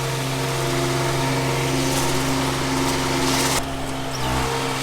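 Steady engine drone of a 3100D golf course mower cutting a trim pass on a lawn, close and continuous, with a brief dip in the noise near the end before the motor carries on.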